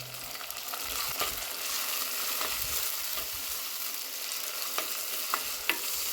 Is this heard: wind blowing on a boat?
no